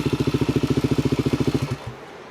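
A motorcycle pulls up on a road in Hawaii. Its engine throbs loudly and close in a fast, even pulse, then drops off sharply near the end to a low idle.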